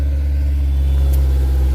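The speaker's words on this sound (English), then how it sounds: "Your exhaust is too loud." A car with a loud exhaust idles nearby, a steady deep rumble holding evenly and close, with no talking over it.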